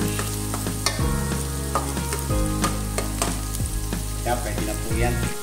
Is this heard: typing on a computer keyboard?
no